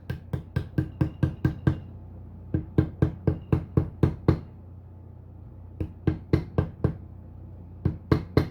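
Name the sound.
tapping the brake shaft into place with a small tool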